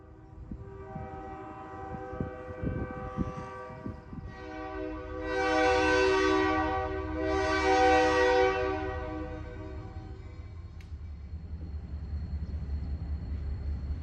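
An Albany & Eastern Railroad locomotive, number 2501, rumbles nearby on a spur track and sounds its horn in two loud, sustained blasts, with low engine rumble continuing before and after.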